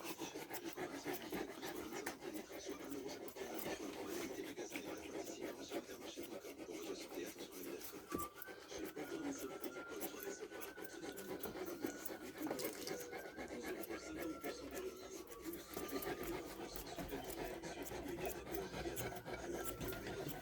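Steady rasping and rubbing through a Newfoundland dog's fur as it is trimmed continues without pause, close up, with faint panting and occasional clicks beneath it.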